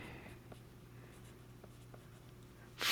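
Pen scratches on paper while writing out a math word problem by hand, a few faint soft strokes close up in a quiet room, with a louder scrape at the very end.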